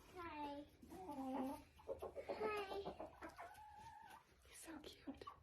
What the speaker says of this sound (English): Do you like those chickens?